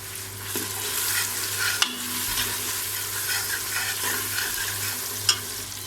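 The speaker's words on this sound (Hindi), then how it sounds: "अब इसको अच्छी तरह से भून लेंगे ताकि ये टमाटर गल जाए और नरम हो जाए।" Tomatoes fry with ginger-garlic paste and green chilies in a pan, giving a steady sizzle with continuous stirring scrapes and two sharp utensil knocks, close and alone.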